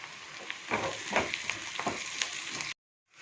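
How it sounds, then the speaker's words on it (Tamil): Onion and grated coconut sauté in a pan for onion chutney, a soft, faint sizzle with a few stirring scrapes and taps, cut off abruptly near the end. "இப்போ எல்லா பொருளும் வதங்கிருச்சு."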